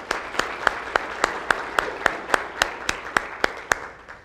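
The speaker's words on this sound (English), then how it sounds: "Give him a round of applause." A single person claps steadily for a round of applause after a strength demonstration, about fourteen sharp, evenly spaced claps ringing out close and clear in a quiet room.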